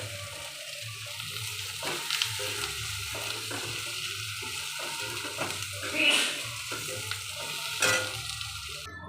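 Potatoes fry in a pan with a soft, continuous sizzle and stirring scrapes, with a few louder bursts as hot water goes in, faint and fairly close.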